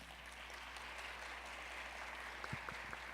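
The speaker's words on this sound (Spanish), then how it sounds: "Por favor, recibamos con un muy fuerte aplauso al Dr. Shantz." Audience applause welcoming a speaker at a lecture, a faint, even wash of clapping with a low steady hum beneath and a few sharper knocks near the end.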